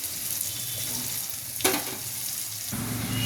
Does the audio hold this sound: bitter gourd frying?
yes